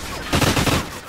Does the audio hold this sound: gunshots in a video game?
yes